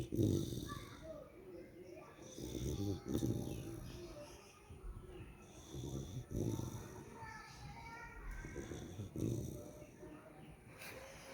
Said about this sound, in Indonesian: Dia bobonya ngorok, padahal itu pakai bantalnya kayak gitu.